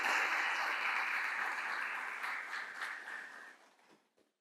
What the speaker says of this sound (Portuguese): você pode aplaudir ao Senhor pela vida dele